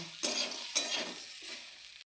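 A spoon stirs sago pulao with fried cashews, raisins, coconut and peanuts in a pan, making two soft scraping strokes over a gentle sizzle, close and brief.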